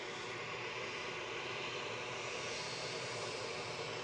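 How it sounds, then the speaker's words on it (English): EasyJet airliner passing close at Edinburgh airport, a steady broad roar of jet engines holding at constant loudness throughout. "I'm going to go back to the EasyJet that's about to pass me."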